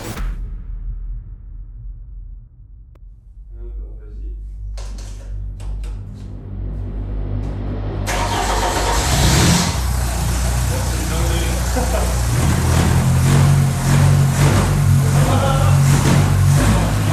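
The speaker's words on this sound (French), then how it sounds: "on a démarré la bagnole sans caler l'allumage plus que ça" An engine cranks, catches and roars into a rough idle, then revs loudly and steadily nearby, with a metallic clatter as it starts.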